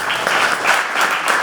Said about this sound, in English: Applause filled the Lackawanna County Courthouse